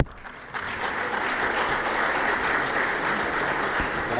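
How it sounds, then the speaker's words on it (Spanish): A crowd at a book presentation breaks into loud, dense applause welcoming a speaker, swelling after a brief quiet start and holding steady and full to the end. "Lo recibimos con un fuerte aplauso."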